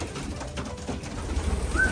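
Male pigeons in a loft give soft, low, repeated cooing close by, a murmuring burble with a brief higher chirp near the end.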